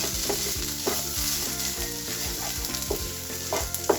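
Masala fries and sizzles in a pan with potato and onion, a steady close crackle with rhythmic stirring scrapes and no talking.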